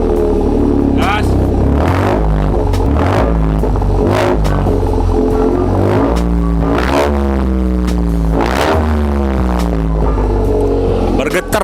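A Toyota GR Yaris fitted with a Remus muffler exhaust is revved repeatedly up close, each throttle blip rising sharply and falling back to a deep idle rumble with a raspy, crackling edge.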